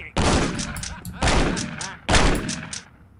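Missile launcher fire in a video game: three heavy, loud blasts about a second apart, each a sharp explosive burst trailing into a long rumbling decay, with no talk over them.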